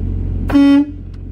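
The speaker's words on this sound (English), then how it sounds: "That was the air horn." A single loud, short truck air horn blast, near and brassy, sounds over a low idling engine rumble at an interstate rest area.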